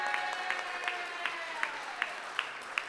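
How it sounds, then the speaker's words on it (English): An audience at a Savannah city council meeting claps for interns, with a soft wash of applause and a few sharp, evenly spaced claps ringing out in a steady beat throughout. "Let's clap for our, there we go."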